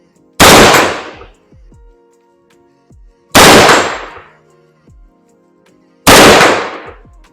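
Three loud rifle shots fired through a Gunnr Odin 1-10 LPVO scope, evenly spaced about three seconds apart, each a sharp close crack with a short decaying tail and quiet gaps between.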